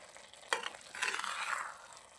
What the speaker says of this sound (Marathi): अजून 10 मिनिटं असं परतून घेऊ.